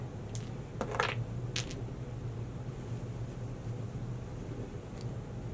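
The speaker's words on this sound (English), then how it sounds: "I'm going to go ahead and clear the bears off" Small plastic counting bears clatter as they are swept off a table in a few quick bursts of light clicks, then a lone click follows over a low steady hum.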